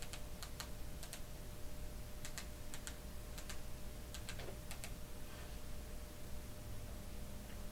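Keystrokes tapped out on a keyboard to enter a web address into a TV web browser, appearing as clusters of quick clicks over a steady background hiss, fairly faint and with no talking.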